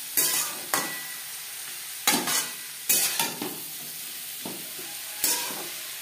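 Beetroot, carrot and potato pieces get stirred in a frying pan, a few sharp scraping strokes rising over a soft, steady sizzle, close up and moderately quiet, with no voices.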